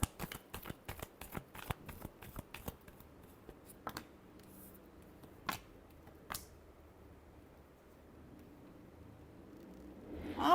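Tarot cards being shuffled by hand: a quick flurry of soft riffling flicks up close, then a few scattered taps and a long near-silent stretch, quiet overall with no speech.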